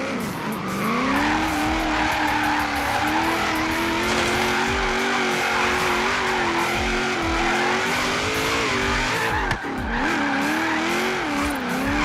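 A car drifting in the video game Forza Horizon 3, with a loud continuous engine held near redline and squealing tires sliding around corners, steady and close for the whole stretch.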